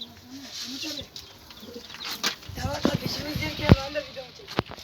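Pigeons cooing in soft repeated low calls inside a coop in Mardin, with a few wing flaps, clicks and background voices mixed in.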